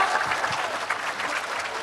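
An audience applauds Najwa Shihab at a book event, a dense, steady wash of many hands clapping that holds at an even level for the whole stretch.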